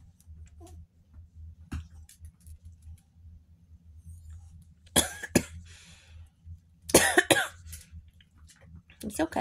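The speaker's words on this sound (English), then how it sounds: "That's just me coughing." A few sharp coughs in close succession, loud and near, followed by another burst of coughing a couple of seconds later over a quiet background hum.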